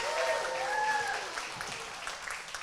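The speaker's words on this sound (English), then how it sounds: "Can I please just have a huge round of applause?" Applause from the audience at a school sports banquet, a crowd clapping steadily with a few whoops and cheers, gradually thinning out.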